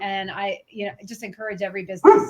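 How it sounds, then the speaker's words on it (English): Pet dogs bark in the background during a business chat, with a short sharp bark near the end under steady talking. "I have my dogs barking in the background"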